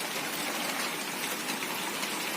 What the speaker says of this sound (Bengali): বৃষ্টি অবিরাম হয়ে চলেছে বৃষ্টির কোনো শেষ নেই দেখো বৃষ্টি পড়ছে